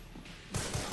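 A sudden burst of heavy gunfire in the survival horror game Resident Evil Requiem erupts halfway through, loud and rapid, with rumbling thumps following a quieter, hissing moment.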